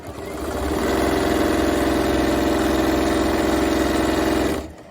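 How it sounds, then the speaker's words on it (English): M7 sewing machine stitching fast through quilt binding, a steady loud whirring motor hum with a fine rapid needle pulse, spinning up at the start and winding down near the end, with no talking. "The M7 sews really fast, so it's one of our favorites because we can get our work done quick."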